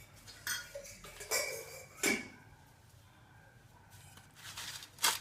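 Potato fries are mixed with chilli powder and oil in a bowl, giving several soft scrapes and light clinks of a spoon against the bowl with quiet pauses between them.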